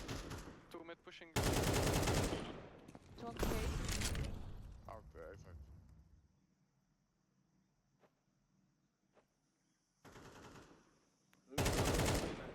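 Counter-Strike 2 gunfire comes in several loud, dense bursts of rapid shots separated by quieter gaps, with brief talk mixed in between the volleys.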